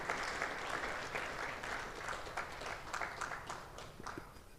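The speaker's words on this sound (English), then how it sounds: "give a welcoming clap to Celebrate Lab Conference 2022." Conference attendees at a West African event give a welcoming round of applause, a fairly soft, uneven patter of many hands clapping.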